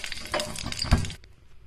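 Curry leaves hitting hot oil with mustard seeds, urad dal and a dried red chilli for a South Indian tempering, a brief close burst of crackling sizzle and spatter that cuts off abruptly.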